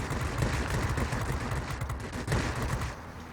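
Guns of a Spitfire XIV fighter plane in World of Warplanes fire in a rapid, continuous rattling burst, loud and close, with a brief dip before the firing resumes and then tapers off.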